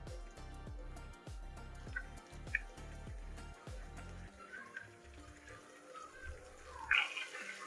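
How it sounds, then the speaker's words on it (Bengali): Chicken pieces for chili chicken sizzle and bubble as they deep-fry in a pan of hot oil, a steady close crackle with a rhythmic pulsing thump through the first half, then looser spattering. "এখন আমি এগুলোকে ডুবো তেলে ভেজে নেব।"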